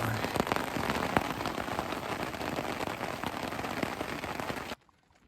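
Steady rain patters and crackles on a poncho shelter during an overnight rainstorm, with scattered louder drops, then cuts off abruptly near the end.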